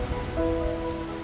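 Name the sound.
rain falling in video game Wuthering Waves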